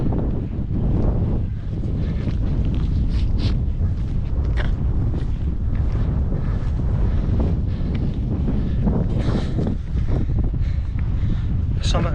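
Strong wind buffeting the microphone on the summit of Ben Vorlich by Loch Lomond, a loud continuous roar with gusty surges throughout.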